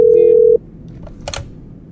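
A video game telephone gives one steady electronic tone for about half a second, then a couple of faint clicks and a short noisy burst.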